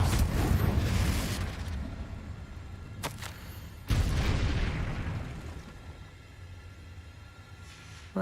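A Confringo blasting spell bursts in Hogwarts Legacy with a loud booming explosion that rumbles and fades, then a second heavy blast hits a few seconds later and decays slowly.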